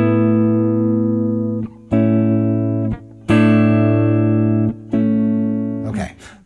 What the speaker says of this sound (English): Both of these suspended chords sound unfinished, right?